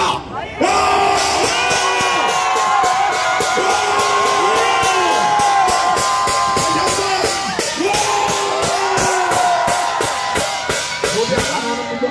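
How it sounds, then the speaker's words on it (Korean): Large crowd at a street rally outside a courthouse roaring a sustained, loud collective shout, many voices yelling and whooping together in a dense, continuous cheer that holds for the whole stretch with slight swells. "다 같이 우리 재판부에 들리도록 힘차게 함성을 질러봅니다."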